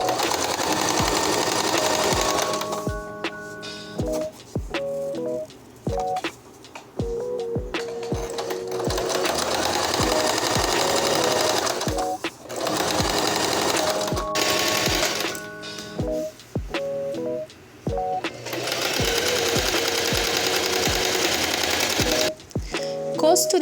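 A sewing machine stitches a table runner in several long runs of rapid, even mechanical chatter, separated by pauses with clicks and handling sounds, while someone talks between and over the stitching.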